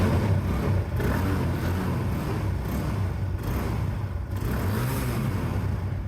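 A second-hand TVS Apache RTR motorcycle engine running steadily at close range, a continuous low mechanical drone with a slight rise and fall and a few brief dips, heard alone without talk.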